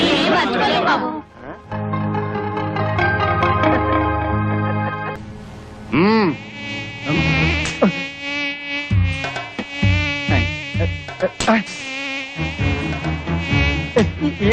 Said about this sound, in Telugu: ఈగలు